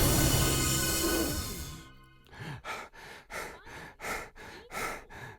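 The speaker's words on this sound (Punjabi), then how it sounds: "ਭੇੜੀਏ ਨੇ ਗੁੱਸੇ ਵਿੱਚ ਆਪਣੇ ਮੂੰਹ ਵਿੱਚੋਂ ਸਾਹ ਛੱਡਿਆ" A cartoon wolf angrily blows out breath in a long, forceful exhale, then a run of about seven rhythmic puffs and huffs follows, close and clear, with no speech.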